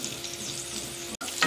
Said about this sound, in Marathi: आता कढई गरम आहे, परत 1 पळी तेल टाकू. आता या कढईत आपण बटाटे घालू.